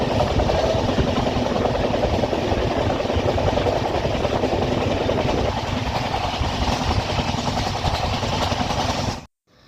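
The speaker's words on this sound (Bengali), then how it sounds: "কলকাতার দিকে এগিয়ে চলেছি পিঙ্কুদের ট্রেন ছিল পাঁচটায়" A train rumbles and rattles along at speed, a loud continuous roar with rhythmic clatter from the wheels, cutting off abruptly at the end.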